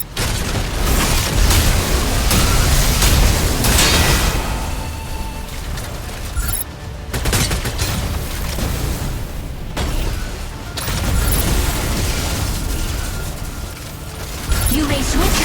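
Weapon fire and explosions in the Mecha Break video game, with battle halberd and Gauss cannon attacks: dense, continuous mechanical clatter and booming blasts, loud throughout with brief dips between bursts.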